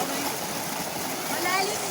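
A small mountain waterfall on Mt. Mariglem pours with an even, full rushing wash of clear cold water, heard close and continuous, with a faint voice briefly rising near the end.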